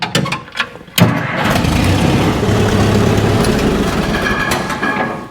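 An Allis Chalmers motor grader's diesel engine cranks and catches after a few clicks, then settles into a steady, rumbling idle close by.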